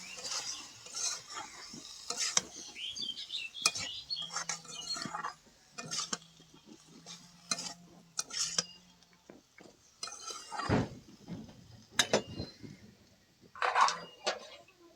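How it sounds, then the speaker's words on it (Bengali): Stirring and scraping in a pan of curry with egg, spinach (pui shak) and potato, with clinks of a spoon against the pot, soft sizzling and a steady low hum in the background. "এবার মিশিয়ে নেব।"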